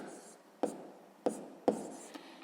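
Pen strokes writing numbers on paper during a sixth-grade math exercise, a few short scratchy bursts spaced irregularly, close and fairly quiet, with no talking.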